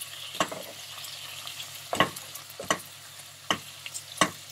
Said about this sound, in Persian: گوشت رو 7-8 دقیقه تفت میدیم.